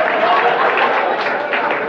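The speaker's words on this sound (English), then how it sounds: "Give her a round of applause." A comedy-club crowd breaks into a loud, dense round of applause at a TK Kirkland stand-up show, steady clapping filling the room for about two seconds.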